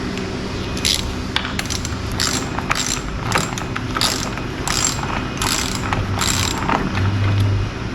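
Rapid ratchet clicks in repeated bursts as a rear wheel bolt is snugged down on a Toro Recycler 22-inch self-propelled lawnmower, close and crisp over low background hum, with no talking.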